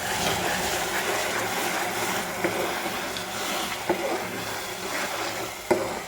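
Ground onion paste fries in a pan with a continuous hiss and sizzle, broken by occasional soft clicks of stirring.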